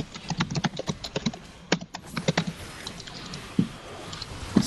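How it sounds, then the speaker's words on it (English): Fingers typing on a computer keyboard during a team game, a quick irregular run of crisp key clicks with short pauses, close and fairly quiet, no talking. "I'm typing"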